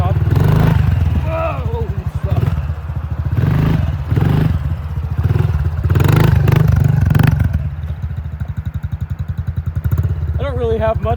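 Motorbike engine revving loud and close during a wheelie and a hill climb on rough ground, rising and falling in bursts under excited talking and shouts.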